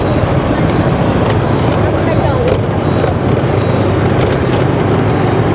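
Peak-hour motorbike traffic on a busy Hanoi street, a dense continuous roar of engines with wind buffeting on the microphone and occasional sharp clicks, loud and steady throughout.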